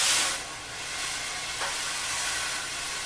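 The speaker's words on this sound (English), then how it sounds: "You can swirl it in a circle around the drum head," Drum brushes swirled in circles around a drum head make a steady, continuous hiss, a little louder at the start, with no voices.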